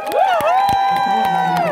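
At a concert in Gross-Gerau, a crowd breaks into cheering, whoops and shouts. Loud voices and sustained tones layer over the noise, giving a dense, close, lively swell of audience reaction.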